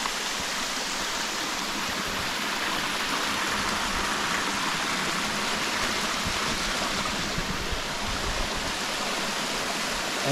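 A waterfall gives a steady, dense roar of rushing water that holds loud and unbroken throughout, heard close with no voices.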